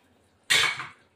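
A lid drops onto a pot of chicken curry on the stove, one close metallic clank that rings briefly and fades.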